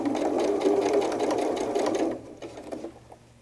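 A sewing machine back stitches fabric for a quilted bunny doll, running in a steady, close mechanical whir for about two seconds before stopping, with faint handling sounds after.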